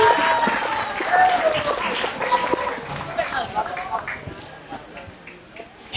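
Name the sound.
audience applause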